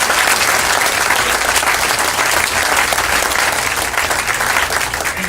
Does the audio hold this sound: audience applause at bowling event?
yes